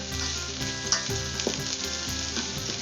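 Garlic and ginger sautéing in a hot pan, a steady loud sizzle and crackle with occasional scrapes from stirring, alone without voices.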